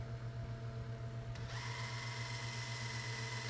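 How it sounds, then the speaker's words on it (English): A center drill bites into a steel part of a Smith & Wesson Model 29-2 revolver for a trigger stud replacement, the motor spinning up with a steady whine over a low hum, quiet and close, with no talk. "Take a center drill."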